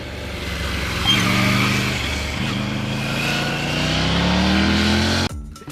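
Exhaust rumble from a Triumph motorcycle engine, a steady, loud, throaty drone heard up close for several seconds that cuts off abruptly near the end, with no talk.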